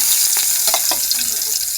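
Eggplant frying in a wok gives a steady, loud sizzle with bursts of crackling and spattering throughout. No one speaks over it.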